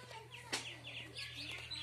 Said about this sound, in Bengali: তো এখানে আমাদের মুরগি রাখা হয়।